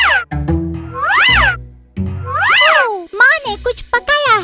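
Several drawn-out, high cartoon-like meows from a big fluffy cartoon cat sound close and loud, one after another, followed by a rapid burst of shorter squeaky mews.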